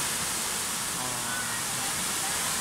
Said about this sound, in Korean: 작은 폭포가 저의 마음을 시원하게 해줍니다.